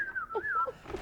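A person whistles a wavering, sliding melody for about a second, fairly close and clear, with faint background noise.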